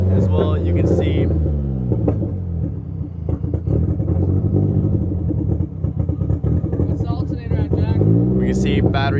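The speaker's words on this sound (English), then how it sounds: "The car is running like shit." A Nissan S13 with an SR20 engine runs rough, a loud steady idle with uneven rumble and clatter that continues throughout, with some speech mixed in.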